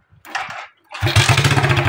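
A Suzuki Smash 110 motorcycle is kicked over: a short sputter, a pause, then the single-cylinder engine catches and runs with a close, rough, pulsing idle.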